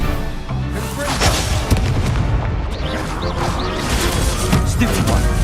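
Fiery Confringo blast spells from a wizard duel in Hogwarts Legacy, with loud booming impacts and crackling bursts over a dense, busy game soundtrack, continuous throughout.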